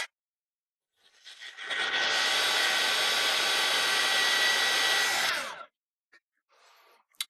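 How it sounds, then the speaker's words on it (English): A heat gun warms a model figure of the great wolves, its steady blowing roar switching on, holding loud and even for about four seconds, then cutting off into near silence. "I did heat this up with a heat gun"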